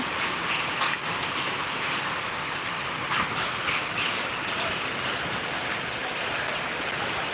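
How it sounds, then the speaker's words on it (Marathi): Hail pelts a tin roof in a dense, constant hiss of impacts, with sharper individual strikes popping out now and then above the steady clatter. "गारा पडतात गारा बर्फ पडते"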